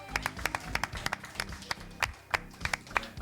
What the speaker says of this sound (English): please give it a round of applause for Muff